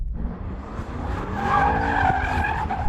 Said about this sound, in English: So if I put it into dynamic mode, apparently it will allow the car to drift